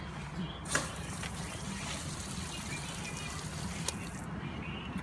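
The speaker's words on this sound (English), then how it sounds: "Water conservation shower head." Water runs steadily from an outdoor shower head mounted on a metal bracket on a Winnebago Micro Minnie 1700BH travel trailer, a continuous close hiss with a couple of brief splashes and no talking.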